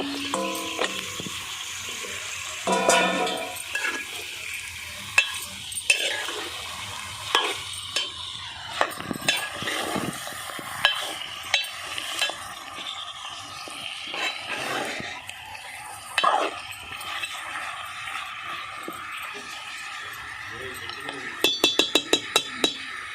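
Repeated scraping and clinking of a spoon stirring country chicken curry in a pot, with a soft sizzle underneath and a quick burst of rapid clinks near the end.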